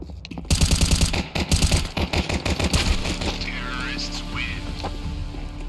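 Rapid automatic gunfire in Counter-Strike 2 on the Mirage map, close and loud bursts of sharp repeated shots followed by fading mechanical clatter and a lingering hum.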